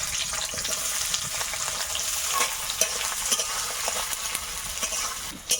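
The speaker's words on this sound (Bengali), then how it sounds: "পেঁয়াজটা লাল লাল করে ভেজে নিয়েছি" Onions crackle steadily in hot mustard oil for a chicken curry, a dense close sizzle punctuated by scattered louder pops and spatters, with no voices over it.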